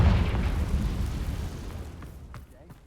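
A Confringo fire spell in Hogwarts Legacy lands as a deep, booming explosion that rumbles and slowly fades, with a few faint crackles trailing off at the end.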